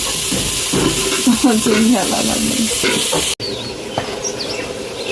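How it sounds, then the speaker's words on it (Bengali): Ridge gourd with boiled chana dal, turmeric and spices sautéed together in a pan, giving a steady close sizzle with scraping stir strokes, then a brief cut and a quieter hiss. "ঝিঙাটাও দিয়ে দেবো, একসঙ্গে কষবো।"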